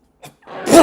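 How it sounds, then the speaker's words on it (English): A single close sneeze: a short intake catch, then a sharp breathy burst that swells and ends abruptly, with no other sound around it. "God, I'm sneezing crazy tonight."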